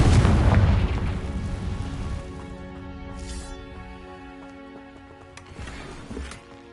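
A Confringo blasting curse explodes in Hogwarts Legacy: a heavy, loud boom at the start rolls off into a long ringing tail, with a smaller burst flaring up near the end.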